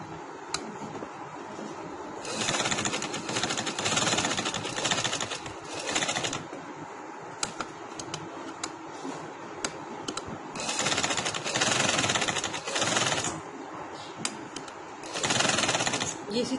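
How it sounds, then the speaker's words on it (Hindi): A sewing machine stitches fabric for a dress in several runs of steady mechanical whirring, each lasting a few seconds and separated by pauses, close and fairly loud. "हमने इस कटान के अंदर अंदर सिलाई लगानी है और इधर तक हम खत्म कर लेंगे।"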